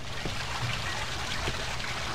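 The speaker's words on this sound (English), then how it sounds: "I can hear water when there's no water." Water trickling and pouring in the horror game Cry of Fear, a steady, fairly loud wash of running water with no voices over it.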